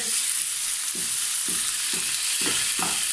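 Sliced lamb leg and minced onion fry in a pan, a steady loud sizzle with a regular series of soft scraping stirs about every half second, no talking.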